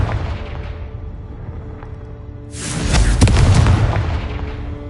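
A Confringo explosive spell blast in a Hogwarts video game: a sudden loud boom halfway through that swells into a roaring, crackling burst and then lingers, after a quieter rumbling stretch.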